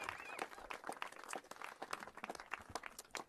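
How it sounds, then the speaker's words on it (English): Scattered clapping from a crowd, uneven and fairly faint, with sharp individual claps rising and falling over the stretch. "Let's once again give a round of applause to our leaders today"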